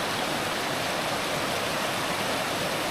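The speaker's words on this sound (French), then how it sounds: "Et là on a du coup la rivière" Continuous rushing water of a river flowing beneath a small solid bridge over orange, oxidized rock on a hike in Joshin'etsu Kogen park, a dense steady roar with no breaks.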